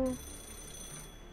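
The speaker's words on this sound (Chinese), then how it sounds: "电话。" A telephone rings in the video game Fate/Grand Order, a short electronic ring tone that fades under a steady game background hum, fairly quiet.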